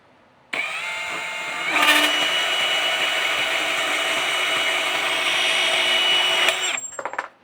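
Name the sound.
power tool cutting down a bolt fastener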